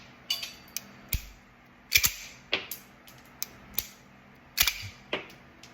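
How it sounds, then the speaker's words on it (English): A firearm is dry-fired and cycled repeatedly, giving sharp, close metallic snaps and clacks spaced irregularly over a few seconds, with several quick double clicks from the action working. "And now fire. Cycle another round."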